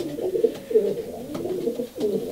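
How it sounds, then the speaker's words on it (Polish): A racing pigeon with an Olympic-class ring gives soft, throaty coos. The low, rolling calls repeat several times in close succession, nearby and alone. "Jest to gołąb z obrączką olimpijską, końcówka 402."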